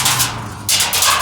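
Commercial laundromat dryer tumbling with a nail or a couple of pennies loose inside, a continuous low rumble with rapid metallic clicks and rattles sweeping by in quick repeated bursts.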